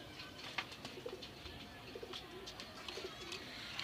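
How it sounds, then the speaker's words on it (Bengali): Pigeons in a cane coop give soft, repeated coos and rustles, faint and close in a quiet space, with no speech. "এই যে থোরের কবুতরগুলো"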